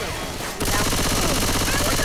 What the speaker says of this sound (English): Now, quit shooting me!